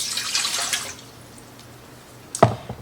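A cup of warm water is poured while making honey oat rolls: quiet at first, then a short burst of close splashing and dripping near the end.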